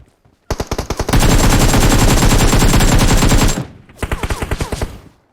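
Rapid automatic gunfire from PUBG Mobile, a loud sustained burst of machine-gun shots for about three seconds, preceded and followed by shorter rattling volleys, with no talking.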